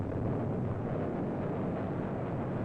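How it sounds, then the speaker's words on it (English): A heavy explosive blast breaks copper ore in an open pit mine after a hand blasting machine fires the cap. It comes as a loud, sustained broadband roar and rumble that fills the whole stretch with no voices. "the wires from the cap are connected to a hand blasting machine. And then, fire."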